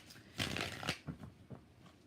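Tarot cards are shuffled in several quick riffling bursts, a loud papery rush followed by smaller flicks, close and quiet otherwise, with no talk.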